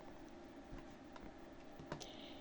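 Quiet keystrokes on a computer keyboard, a few soft taps of the space bar spaced irregularly over a faint background hum.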